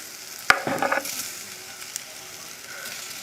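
A tomato drops into a hot pan with pork hock, giving a sharp impact and a brief burst of sizzling and stirring that quickly fades to a low, steady crackle, close up with no talking.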